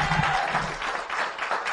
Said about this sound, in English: Come on, we need to give a round of applause.